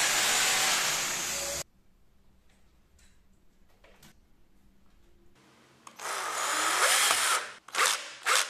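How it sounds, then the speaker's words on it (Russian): A power drill bores a hole into a wall to mount a 3D wall clock, in two loud bursts: the first runs about a second and a half, the second a longer stretch near the end, with quiet between. "Сейчас просверлю отверстие в стене."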